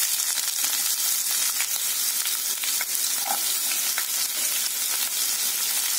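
Chopped onion going into hot oil with popping mustard and fennel seeds for a potato masala, a dense, continuous close sizzle with small crackles and scrapes throughout, no voices.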